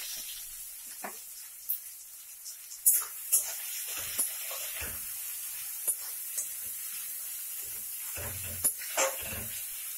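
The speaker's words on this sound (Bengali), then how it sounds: "পেঁয়াজটা লাল লাল করে ভাজার পরে তারপর শামুকগুলো দিয়ে দেবো।" Onions fry in a pan with a little salt, a quiet sizzle punctuated by scattered sharp scrapes and taps of a spatula stirring them.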